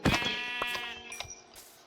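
Minecraft sheep bleat in the video game, a loud, close wavering baa followed by a couple of shorter, fainter bleats, with no talk over them.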